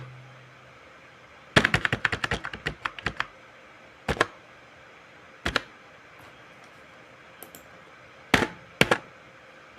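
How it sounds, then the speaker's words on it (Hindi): Keystrokes on a computer keyboard while a form template is typed up for digital documentation: a quick burst of clicks, then scattered single taps and short pairs, close and fairly crisp with no talking. "यहाँ टाइप कर देते हैं"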